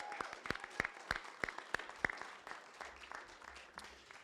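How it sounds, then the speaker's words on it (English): Audience applause at a Kentucky Derby Museum press conference, crisp individual claps ringing out in a fairly sparse, moderately quiet round that thins toward the end. "Round of applause, please."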